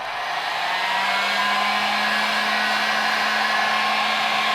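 Heat gun blowing hot air onto wrinkled vinyl wrap on a Yamaha Warrior 1700 motorcycle, a loud steady whooshing roar with a constant hum, close and alone.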